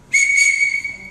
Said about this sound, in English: First whistle command is what?